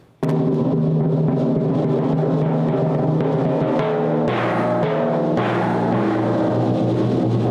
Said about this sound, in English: Here we got the timpanis